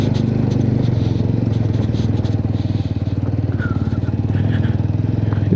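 A motorcycle engine labours uphill in low gear on a rough off-road mountain track in Manang, giving a steady close drone with faint rattles and scrapes over it throughout.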